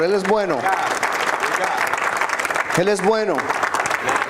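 A church congregation claps steadily at a Spanish-language evangelical service while voices sing and speak over the applause throughout.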